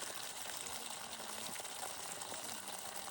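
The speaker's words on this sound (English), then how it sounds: "the kids wanted me to capture how the water is freezing from this water source" Water running from a freezing spring at a water source on an Appalachian Trail thru-hike in Georgia, a faint, steady gushing rush outdoors with no talking.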